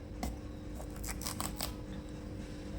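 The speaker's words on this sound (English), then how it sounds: "Let us begin to cut it." Knife cutting through a whole yellow pumpkin, giving a few brief crisp slicing and cracking sounds near the start and middle over a steady low kitchen hum, with no talking.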